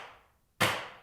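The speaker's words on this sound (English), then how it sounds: "A dead blow hammer is a good thing to have for these two." A single sharp, dull knock from a dead blow hammer striking a hand plane, preceded by a fading earlier tap, close and fairly quiet.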